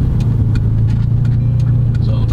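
A Honda Accord's engine hums steadily close by, with faint clicks and a soft background voice over the low drone.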